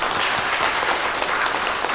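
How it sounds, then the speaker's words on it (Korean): Church congregation at a Sunday worship service claps in encouragement, a brief, close burst of many hands with sharp individual claps standing out in the dense, even patter. "다시 한번 돌아서 인사하시면 박수로 격려하겠습니다."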